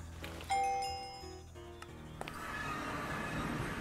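A horse neighs in the video game RLCraft, a single sharp whinny rising near the start over a busy game soundscape with chimes and rumbling ambience.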